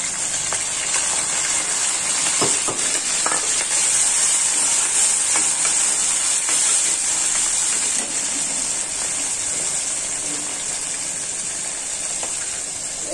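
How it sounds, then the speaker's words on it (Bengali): Shrimp fry in hot oil in a home kitchen, giving a steady, even sizzling hiss that lasts throughout, with scattered small pops and crackles. "তেলটা গরম হয়ে গিয়েছে। এখন হলো আগে কটা চিংড়ি মাছ আছে, চিংড়ি মাছ কটা ভাজে নেব।"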